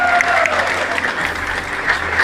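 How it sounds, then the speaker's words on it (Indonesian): Audience applause at a cooperative meeting for the TKBM Panjang port workers' union, a steady wash of clapping lasting a couple of seconds with faint voices mixed in. "Tepuk tangan dulu."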